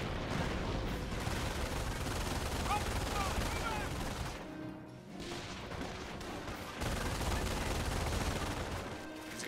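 Sustained volleys of infantry rifle and machine-gun fire in the World War II strategy game Company of Heroes during a Normandy invasion battle, dense and loud throughout with a brief lull midway, while a voice talks over the fighting.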